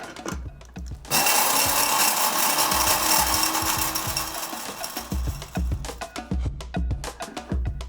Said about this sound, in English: Clove, green cardamom, cinnamon, the lid on this thing, and grind this up here.